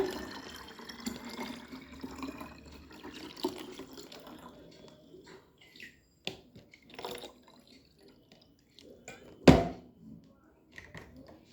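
Water splashes and trickles into a bucket, with irregular drips and pouring sounds, a few soft knocks, and one sharp thunk near the end.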